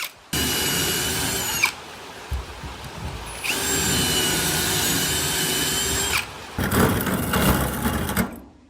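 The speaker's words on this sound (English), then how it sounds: "Now we can drill our hole." A power drill boring a hole in metal with an unsuitable bit whines loudly at steady pitch through two long bursts, stopping briefly between them, then a rougher, grinding final burst before it winds down.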